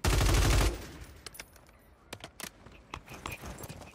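A loud burst of rapid automatic gunfire from a Warzone firefight rattles for under a second, followed by scattered distant shots and thuds.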